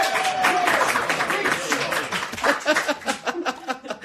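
A live crowd claps and chuckles while someone talks over it. The applause builds into loose, uneven bursts toward the end.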